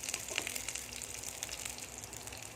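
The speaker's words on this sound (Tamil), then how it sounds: "எண்ணெய் காஞ்சிச்சு. இப்போ நம்ம தாளிச்சிக்கலாம்." Spices tempering in hot oil with garlic for a yam curry, a faint, soft sizzle with scattered small crackles and pops, heard alone at low level.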